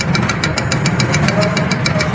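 A jammed e-bike hub motor with a winding fault jerks with a fast, steady pulsing knock under a buzzing whine, loud and close.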